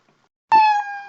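A single short cat meow sound effect from a Scratch program starts abruptly after silence, a clean, bright tone that fades slightly over about half a second.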